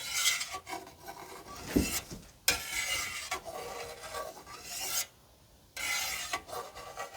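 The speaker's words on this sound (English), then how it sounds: "I'm going to go top to bottom, and I'm going to cut the curd" A knife drawn through cheese curd in a pot for homemade Camembert-style cheese, making close rasping, rubbing strokes in uneven bursts with short pauses between cuts.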